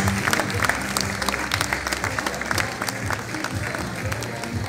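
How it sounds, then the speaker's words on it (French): Sustained, dense clapping from a large crowd, loud and steady throughout with no breaks. "Vous pouvez les applaudir plus fort"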